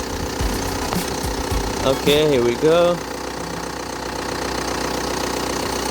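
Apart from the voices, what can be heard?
2005 Hyundai Santa Fe diesel engine idling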